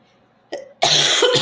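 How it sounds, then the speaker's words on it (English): A person coughs indoors: a short hack, then a longer, harsher burst of coughing right after, alone and close. "It probably hurts your ears when I'm coughing"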